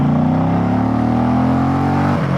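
Indian Pursuit Limited motorcycle accelerating hard in second gear, a loud, close engine roar with steadily rising pitch that dips sharply at the end as the throttle eases.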